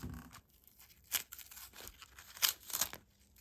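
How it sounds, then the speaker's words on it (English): Ribbon is pulled free of its crinkly packaging for Christmas decorating. Close, quiet bursts of tearing and rustling come in uneven clusters, with no voices. "Let's unwrap the ribbon first."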